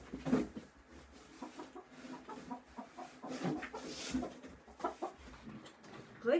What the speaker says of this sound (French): Aujourd'hui, je vous ai apporté ma poule.